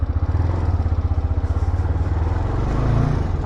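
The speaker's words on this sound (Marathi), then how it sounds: "आपण बाईक अगोदर स्टार्ट केली आहे" A motorcycle idling just after a cold start, a steady close throbbing engine beat that holds evenly throughout with no talk over it.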